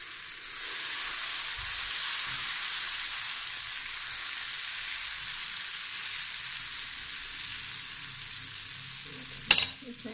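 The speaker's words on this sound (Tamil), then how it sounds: "இப்போ மாவு ஊற்றலாம்." Dosa batter spread on a hot griddle sizzles with a steady, soft, high hiss that lasts throughout, quiet and close, with a couple of faint knocks and a sharp utensil clink near the end.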